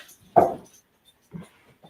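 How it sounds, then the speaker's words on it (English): A Great Dane lets out a short whimpering whine up close, one stronger cry followed by a couple of fainter soft whines in a quiet room. "There's a dog. Why is there a Great Dane up here?"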